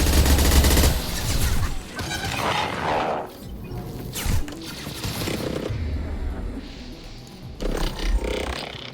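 Heavy gunfire from Mass Effect 2 roars in sustained bursts, mixed with crashes and impacts, loud at first and then continuing in rattling volleys at a lower level.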